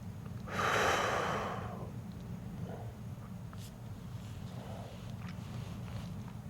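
A single strong breath out during a leg stretch, a loud airy exhale near the start that fades into quieter breathing, with no talking.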